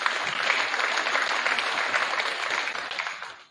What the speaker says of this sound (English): Let's get those folks a round of applause.